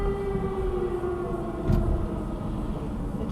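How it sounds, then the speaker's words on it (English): Air raid sirens wail across Kyiv, the Ukrainian capital, in a news broadcast, a steady sustained tone over a dense rumbling city background, with a brief louder burst midway. "Distinctive sound of air raid sirens blaring out across the Ukrainian capital this morning."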